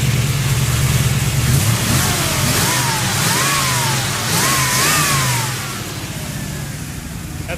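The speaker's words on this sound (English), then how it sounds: "Let's see how it does when it's revved slightly." A cammed LT1 V8 car engine, just fitted with new fuel injectors, is blipped from idle in a few short, rising revs around the middle before settling back to a loud idle, close up and without speech.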